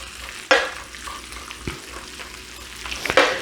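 Food for a full English breakfast fries steadily in a pan, a soft continuous sizzle broken by a couple of sharper spatters and scrapes, close and with no talking.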